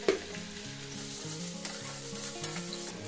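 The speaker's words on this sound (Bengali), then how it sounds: "আলু আর গাজরটা একটু ভেজে নিয়েছি" Potato and carrot fry in a pan with a soft, steady sizzle, while a low tonal hum steps between pitches underneath and a few light clicks of stirring come through.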